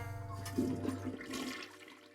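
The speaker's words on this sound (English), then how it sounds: "I hate that there's a flushing sound every time." Day of the Tentacle video game toilet flush: a short, faint, gurgling rush of water over a low background hum, heard alone without talk.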